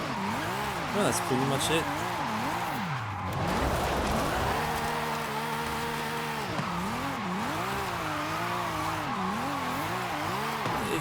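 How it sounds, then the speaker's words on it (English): In the racing game Forza Horizon 5, a car holds a long drift with revving, wavering engine pitch and squealing tires, steady and close throughout, while someone talks over it. "a long drift with the long angles like this one"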